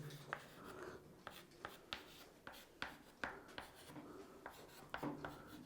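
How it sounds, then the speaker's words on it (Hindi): Pen or marker writing by hand during a chemistry lesson on the Haber process, giving quick scratchy strokes in short irregular bursts, close and fairly quiet with no voice over it. "थोड़ा सा यहाँ लिखना है अकॉर्डिंग टू ली चैटेलियर"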